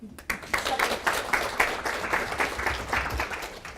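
An audience claps steadily at a business talk, a dense run of individual hand claps at moderate distance that carries on evenly for several seconds with no talking over it.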